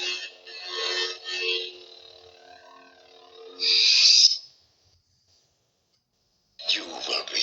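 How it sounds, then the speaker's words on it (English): Xenopixel lightsaber running a Ben Solo sound font: a crackling, hissy hum with a sharper swing or clash burst midway, then a pause of silence before the crackle returns. "So this is your Ben Solo sound font."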